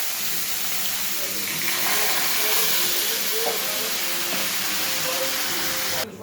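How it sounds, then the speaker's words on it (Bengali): Fish sizzling in hot oil with dried and green chillies, a steady loud hissing fry that holds throughout and cuts off abruptly at the end. "এবার একে একে মাছগুলো ছেড়ে দেবো"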